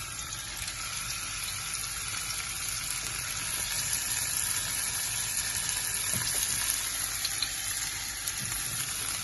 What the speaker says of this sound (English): Makes a nice sizzling sound.